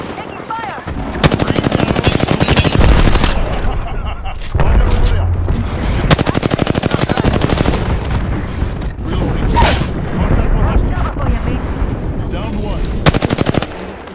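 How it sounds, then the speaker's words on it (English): Enemy gunfire in Apex Legends rattles in long, loud automatic bursts with brief pauses between volleys, mixed with heavier booms and in-game voice callouts. "Taking contact with enemy. Taking fire."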